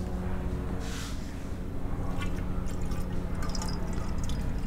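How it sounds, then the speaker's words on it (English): Alcohol is poured into the combustion chamber of a cylinder head to measure its volume. A steady liquid trickle with drips runs throughout, moderately close. "we need to pour some alcohol in here."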